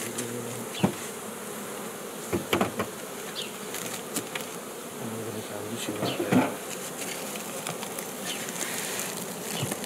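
Honeybees drone steadily around an opened hive during a spring inspection, a dense continuous buzz with occasional louder passes and soft knocks of frames.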